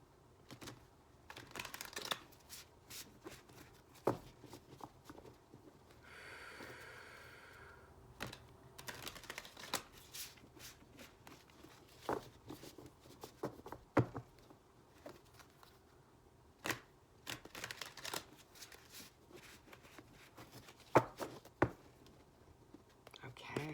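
Soft, close tarot cards being shuffled with quick papery riffles and light taps, scattered crisp bursts at low volume alongside faint whispering.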